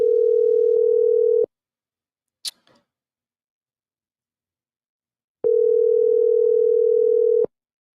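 A telephone ringback tone sounds while an officer is being called, with a steady single-pitch tone at the start, a brief click in the middle and a second long tone near the end, separated by silence.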